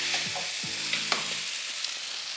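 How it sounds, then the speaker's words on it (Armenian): Steady sizzling of eggs frying in a pan, broad and continuous, with a few scraping clinks of a utensil early on. "Հավկիթը տապակենք։"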